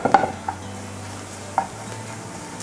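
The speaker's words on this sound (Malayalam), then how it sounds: "ഓഫാക്കിയിട്ട് 1 മിനിറ്റ് കൂടെ ഒന്ന് ഇളക്കി കൊടുക്കണം" Golden-brown roasted coconut is stirred in a pan after the heat is switched off, giving a few soft scraping clicks and taps over a faint residual sizzle, quiet and close.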